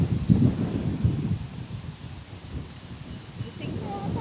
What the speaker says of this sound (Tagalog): Lakas ang hangin ah.